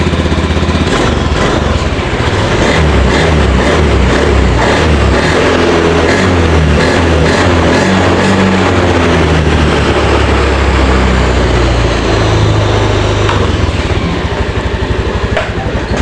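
A Honda Beat ESP scooter engine is started and left running, producing a loud, steady close-up putter and rattle that persists throughout with no talking.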